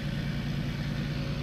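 A steady, low engine hum from a vehicle idling in Farming Simulator 19, even and continuous at moderate volume with no talking.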